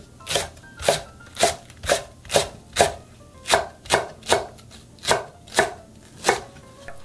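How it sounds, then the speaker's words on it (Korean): Knife chopping thick-stalked green onion (daepa), split in half lengthwise and cut into coarse pieces on a board: about a dozen sharp, evenly spaced thwacks, close and clear, with no talk. "대파는 흰대가 너무 굵어서 반으로 가른 후에 좀 듬성듬성하게 좀 썰어주세요"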